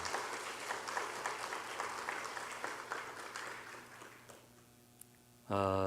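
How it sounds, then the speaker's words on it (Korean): A church congregation applauding the choir, sustained clapping that gradually fades out, followed by a brief loud tonal burst right at the end. "큰 박수 다시 한번 해주시기 바랍니다"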